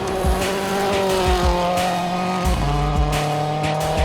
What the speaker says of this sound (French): Il ouvre la machine, limitant l'avance de Semenuk à quelques secondes.